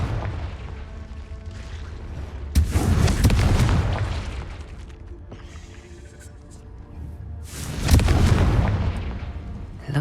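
Two loud booming blasts of the Confringo blasting curse in Hogwarts Legacy, cast in a cave, each a sudden crack followed by a rumbling, decaying roar, with quieter ambience in between.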